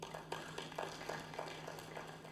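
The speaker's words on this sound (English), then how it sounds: "I expected a louder hand clap for Nssf" Audience members clap hands at an NSSF annual members meeting, a sparse, faint patter of claps in an uneven rhythm heard from a distance in a hall.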